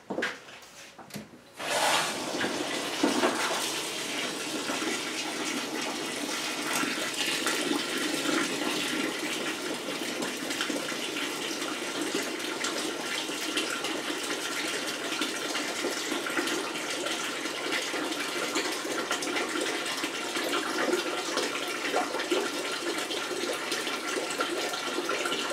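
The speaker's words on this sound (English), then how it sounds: "Alright, let me put a little bit more water." Water pouring steadily into a bourbon mash, a continuous loud gushing rush lasting over twenty seconds after a brief clatter at the start, with no talk.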